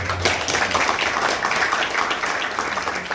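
A burst of applause from a crowd, dense clapping sustained for a few seconds without a break.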